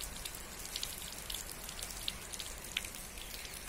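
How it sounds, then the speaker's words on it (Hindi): Heavy, steady rainfall hisses continuously, with scattered sharper drops ticking close by; no voices, just the constant wash of rain. "तो ये बढ़िया वाली बारिश हो रही है"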